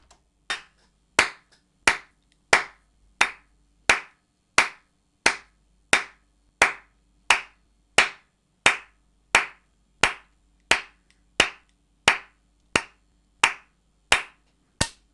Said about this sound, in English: Let's hear it with a click.